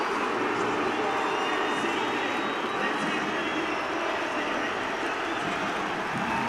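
Dense, steady stadium crowd noise fills a Sunderland vs Coventry play-off semi-final second leg before kick-off, a continuous broad roar with scattered shouts and some booing, loud and close throughout.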